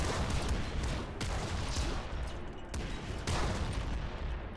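Bazooka fire in Nuclear Throne comes as a dense, continuous barrage of muffled blasts and explosions with several sharper booms, fairly quiet overall and with no voices.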